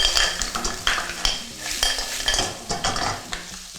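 Seafood being stir-fried in a pan for a stew, cooked only partway: a utensil scrapes and stirs in quick repeated strokes over a steady close sizzle, with occasional metal clinks.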